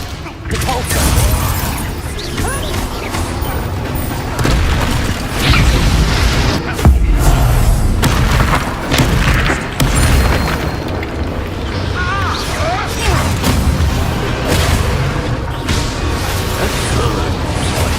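A Depulso force spell cast during a battle in Hogwarts Legacy, a loud booming blast amid a continuous barrage of impacts, whooshes and crashing combat effects.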